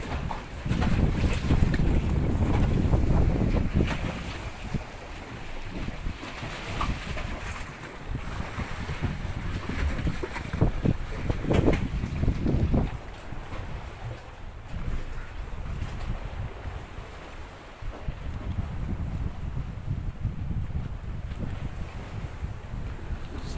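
Water sloshing beneath a boat moored at a pier in Mindoro, a steady wash of lapping water and wind rumbling close to the microphone for the whole stretch, with no voices.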